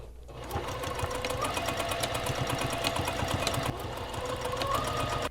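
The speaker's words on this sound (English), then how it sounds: "And then you can add that reinforcement stitch right along here with your sewing machine." A sewing machine runs a reinforcement stitch along the elbow seam of a puffy dress sleeve, a fast close mechanical whir that hums steadily for several seconds with one brief break, with no talking.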